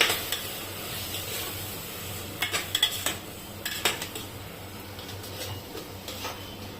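Freshly ground spice paste is stirred and sautéed in a pan during tomato rice cooking, a low sizzle running beneath clusters of spoon scrapes and clinks against the pan, close and moderately loud.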